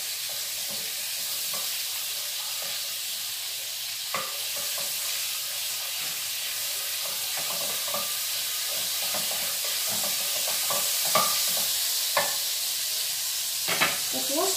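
Butter melts over low heat in a pan for a macaroni and cheese recipe, giving a steady close sizzle and hiss with occasional light stirring scrapes throughout.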